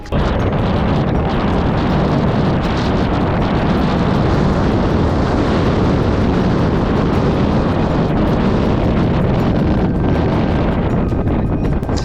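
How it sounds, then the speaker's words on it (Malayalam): Strong wind on top of a watch tower in Silent Valley roars steadily across the microphone, a dense, continuous rumble and buffeting with no pauses and no voices. "നല്ല കാറ്റെന്ന് വെച്ചാൽ കൊടും കാറ്റ് തന്നെയാണ്"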